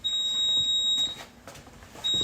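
Smoke alarm sounding indoors in a storage area, high piercing electronic beeps in a long tone that breaks off and resumes, loud and close with no talk.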